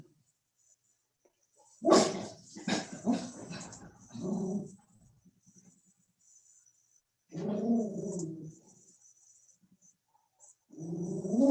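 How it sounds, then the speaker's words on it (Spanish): A dog barks and whimpers in several bursts, fairly close, inside a home, with quiet pauses between the outbursts and a faint steady hum underneath. "Tengo acá los guardianes ladrando."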